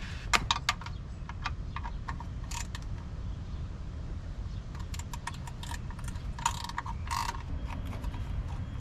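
A ratchet turns a 5/16 long socket on a Bobcat T66 skid steer while it gets a fuel filter changed, giving bursts of rapid clicking at close range over a steady low rumble.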